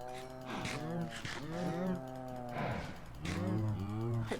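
Cows in Minecraft low in three loud, overlapping bursts of moos, close and resonant, each rising and then falling in pitch with short gaps between them.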